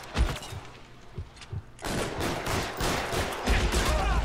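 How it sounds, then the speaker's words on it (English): Gunfire from the L.A. Noire video game, several rapid bursts of shots rattling close and loud, with heavy continuous firing through the second half. "I'm just shooting his hat off."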